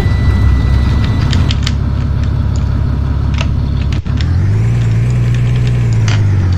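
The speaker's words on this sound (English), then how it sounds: "I love the startup on this bus." An FS65 bus engine at a depot turning over and settling into a loud, deep, steady idle rumble close by, with a brief dip partway through as it catches, and no voices.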